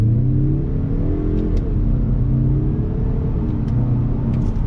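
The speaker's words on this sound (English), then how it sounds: "So you're definitely getting a little bit quicker acceleration there by allowing those revs to climb." A 2021 Mazda 3 Turbo accelerates hard under throttle, its engine droning loudly from inside the cabin as the revs climb in a steady rising pitch, with no one talking.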